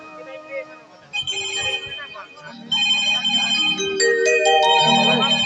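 A mobile phone rings loudly and up close, its electronic ringtone repeating steadily over several seconds with voices around it.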